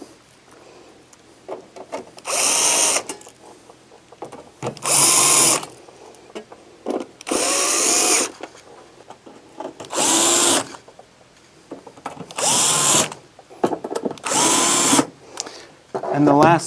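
A cordless power drill drives six screws back into a refrigerator's access panel, giving repeated loud, short whirring bursts separated by quiet pauses and light handling noise.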